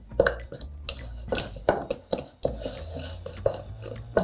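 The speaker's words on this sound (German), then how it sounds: "Knete das noch ein bisschen von Hand durch." Shortcrust pastry dough kneaded by hand on a work surface, with close, irregular soft thumps, squishes and light knocks in quick succession.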